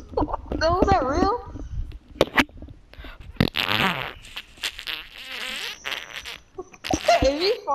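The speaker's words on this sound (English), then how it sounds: "If you fart like that, we need to go to the doctor." A sharp, buzzy fart-like blast rings out in a Grand Theft Auto V roleplay session, jumbled among quick, animated voices talking and laughing, with several raspy bursts scattered through the chatter.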